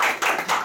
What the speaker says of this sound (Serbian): Ja ću zamolit aplauz.